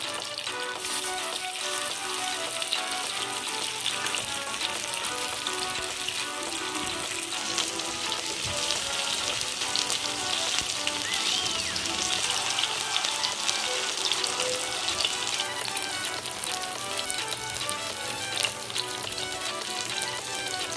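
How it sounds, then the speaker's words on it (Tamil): Pomfret fish fries in oil over a low flame, a continuous even hiss and crackle that holds at a moderate level for the whole stretch with no talking. "கொஞ்சம் லோ ஃப்ளேமில் அப்படியே அந்த மீனை வேக விடுங்க."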